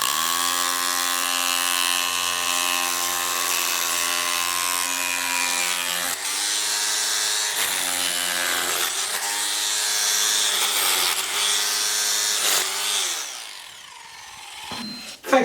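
An SDS rotary hammer drill running in hammer-only mode, with a loud, sustained buzzing hammer action that is steady and close, briefly dips in intensity, and stops near the end.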